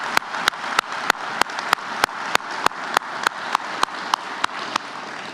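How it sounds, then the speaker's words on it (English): A steady wash of crowd applause at a university faculty and staff convocation, with regular sharp claps cutting through at an even pace, continuing throughout at moderate loudness. "I certainly want to give our colleagues another round of applause."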